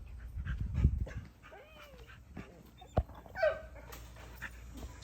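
A pregnant dog whimpers and yips near the start, with soft whines and a sharp bark-like burst later, set against low rumbling background noise outdoors.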